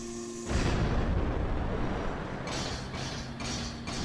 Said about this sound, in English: The explosions are just nothing underwater.